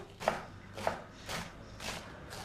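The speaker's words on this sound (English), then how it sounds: "Then cut it in half and remove the inner stalk. And then shred it." A knife shreds cabbage on a board, giving five evenly spaced, soft chopping strokes, close but faint, with no talk.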